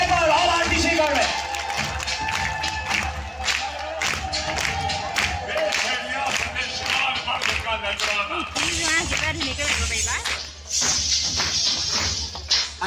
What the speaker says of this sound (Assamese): বজাওক তালি একবাৰ